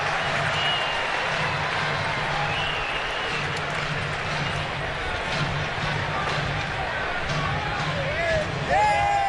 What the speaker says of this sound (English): They're cheering Lowry's at bat.